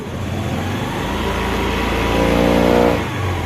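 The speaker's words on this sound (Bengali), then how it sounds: "আমরা বাইকটি স্টার্ট করে দেখাবো। দেখতে পাচ্ছেন আমাদের বাইকটি স্টার্ট আছে। আমরা পিক আপ দেবো বাইকটি।" A Honda Activa scooter engine revs up, its pitch climbing steadily to a loud peak near the end, then dropping back toward idle.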